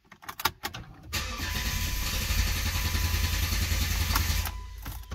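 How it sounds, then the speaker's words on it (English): A 2008 Jeep Liberty engine cranks close up with no fuel pressure: a few short mechanical bursts, then a steady loud churning crank for about four seconds that stops abruptly without catching. "that was the sound of it trying to start, but there's not enough fuel pressure to keep it running"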